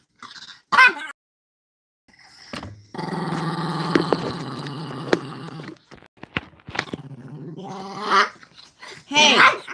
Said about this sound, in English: There he is. Meanest dog.